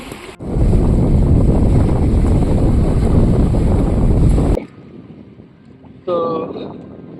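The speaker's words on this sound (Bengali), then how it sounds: "আপনারা দেখতে পাচ্ছেন যে আমরা এখন একটা নৌকাতে বসে আছি" A boat on the Jamuna river during the monsoon season, with loud rushing wind and water noise for several seconds that drops suddenly to a quieter background, then a brief voice near the end.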